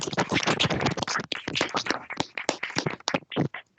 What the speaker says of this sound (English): clap hands in recognition